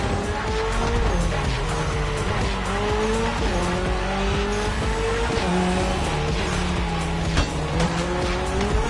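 A Toyota GR86, lightweight with a naturally aspirated engine, racing through neon-lit city streets in The Crew Motorfest: a loud, close engine drone that rises and falls with gear changes, joined by squealing, skidding tires throughout.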